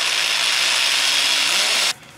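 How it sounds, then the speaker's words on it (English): Power drill boring holes into a plastic tick-shaped fishing lure body, a steady close whine running continuously before cutting off abruptly near the end. "now I just got 8 holes that I need to drill out for all of the legs, 4 on each side"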